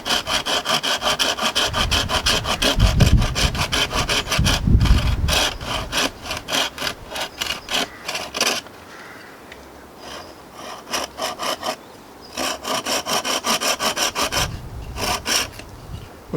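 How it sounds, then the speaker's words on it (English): A hand saw cuts a V notch into a wooden bow drill fireboard with steady back-and-forth rasping strokes, loud and close, running in bursts with a brief slower pause midway before resuming. "We can cut it roughly with the saw and then finish it off with the knife."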